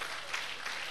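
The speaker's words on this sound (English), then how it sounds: "Thank you very much and clap hands for yourselves." Faint applause from a classroom audience at the end of a lecture, a soft, steady patter of clapping hands with no voices over it.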